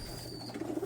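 A pet bird gives a brief, soft cooing call near the end of a short, quiet moment.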